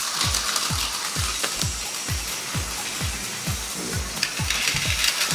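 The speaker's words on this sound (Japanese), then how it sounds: "じゃあこれで走らせてみましょう。" A Plarail Advance D51 200 toy steam locomotive runs on plastic track with a steady, evenly spaced mechanical clicking and ratcheting rhythm, close and continuous, with a faint whir of small gears underneath and no voices.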